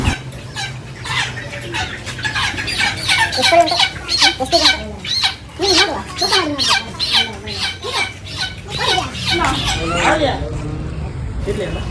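Chickens squawk and cackle repeatedly at a chicken shop in a loud, busy chorus, harsh overlapping calls filling the space nearby.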